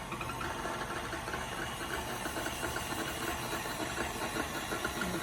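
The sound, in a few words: electric mixer mixing muffin batter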